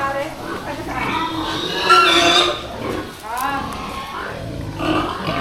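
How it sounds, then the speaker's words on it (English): Pigs squealing and grunting at a pig farm in Mindoro, Philippines, a loud continuous din of overlapping animal cries with people talking over it. "That's a pig farm."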